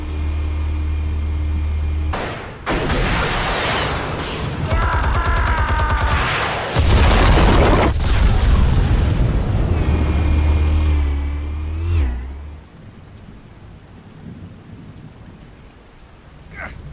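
Explosives detonate in Batman: The Telltale Series with heavy booming blasts and long rolling rumbles, layered with crackling debris and rising tones, loud and close before dying away to a quieter ambient hum.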